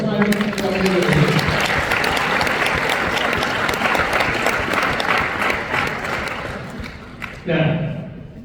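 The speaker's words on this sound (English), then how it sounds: "Give her a round of applause." Loud, full audience applause during a keynote address at a ministry graduation ceremony, rising quickly and holding steady before fading, with a voice heard briefly at the start and again at the end.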